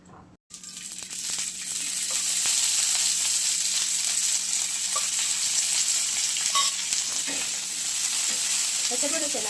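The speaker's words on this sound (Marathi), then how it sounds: "शेंगदाणे पण भाजून घेऊयात मिरची बरोबर मस्त भाजून घ्यायचे" Green chillies and peanuts roast in a hot pan with a steady, close sizzle and occasional stirring scrapes, starting after a brief pause and continuing loudly to the end.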